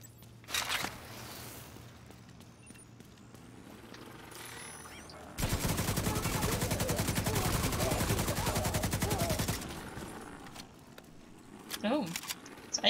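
AK rifle gunfire in a video game: a sustained rapid automatic burst lasting about four seconds, loud and close, with scattered quieter shots before and after and some talk nearby.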